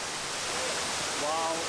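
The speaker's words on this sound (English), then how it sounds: "Even if this is not the biggest and most famous waterfall in India, not even close, this is a memorable moment." A waterfall in Kerala, India roars as a steady, broad rushing wash of falling water, constant and fairly loud throughout, with a faint voice briefly audible near the end.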